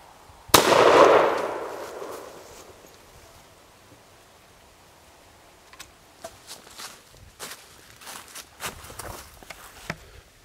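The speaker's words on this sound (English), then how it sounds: "we'll go ahead and shoot that can" A muzzleloading shotgun fitted with a 209 primer adapter fires once outdoors at a can about 15 yards away. The single loud blast rolls off in a long decay, followed by scattered nearby footsteps and rustling.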